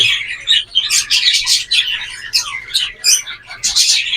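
Breeder hen bird calling near its nest with eggs, a close, loud series of rapid chirps and squawky tweets in short bursts, with no talking.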